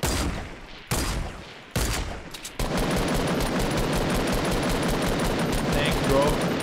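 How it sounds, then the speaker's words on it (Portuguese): Fortnite gunfire starts as a few sharp bursts, then becomes dense, continuous rapid shooting that stays loud to the end, while players talk over it. "Ó, tá atirando já."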